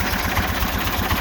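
The engine of a 1919 Autocar dump truck runs continuously nearby, a loud, even, rumbling idle with a steady pulsing chug throughout.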